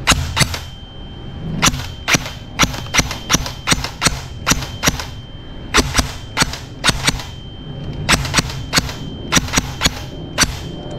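An E&C 105 airsoft rifle, upgraded, fires sharp full-auto bursts and single shots, each a crisp snap, with short clusters and gaps between them, close and loud.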